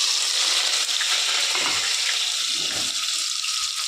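Onions sizzling and frying in hot oil in a pan, a steady dense crackle with bursts of stirring, close and loud, with no talking.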